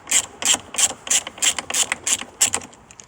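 Hand ratchet clicking in a quick series of about ten bursts as it removes the steering wheel holding nut on a Dodge Journey, close up with no talking.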